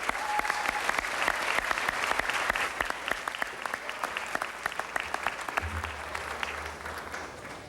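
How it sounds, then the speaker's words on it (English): A crowd at a Los Angeles kung fu school event gives sustained, steady applause for Shaolin kung fu performers, dense and even throughout with no pauses. "Let's give a round of applause to our performers."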